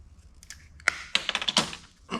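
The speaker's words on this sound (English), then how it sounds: "I'm gonna cut just a little bit off from the last demo." A plastic PEX water pipe for a mobile home leak repair is cut with a cutter, giving a short burst of faint snips, clicks and crunches close by.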